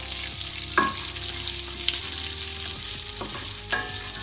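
Peanuts and curry leaves fry in hot oil in a pan for tamarind rice, with a dense continuous sizzle and a few clinks of stirring close by, no voices.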